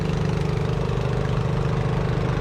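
A dirty, smoking farm tractor idles close by on a wet Florida cornfield, its steady low, knocking engine rumble running unbroken with no voices over it.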